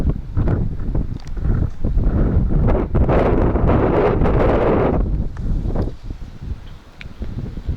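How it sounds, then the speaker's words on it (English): Strong wind buffets the microphone at an outdoor hilltop viewpoint near Užice in western Serbia, a loud continuous roaring rumble with gusty swells and no talk. "It's windy."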